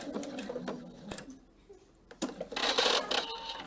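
A PFAFF sewing machine stitches a cushion cover in short bursts of rapid mechanical chatter, pausing briefly in the middle before a louder, sustained run near the end, heard close up.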